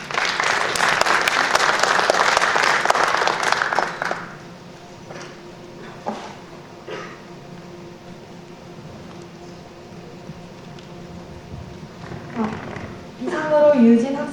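Audience applause at a science research presentation event, a dense burst of clapping for about four seconds that then fades to quiet room murmur with scattered faint claps.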